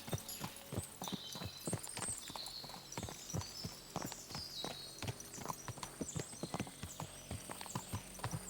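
A horse ridden at a steady walk in Kingdom Come: Deliverance II, its hooves clip-clopping in an even rhythm on the ground, with an occasional snort or whinny, close and continuous.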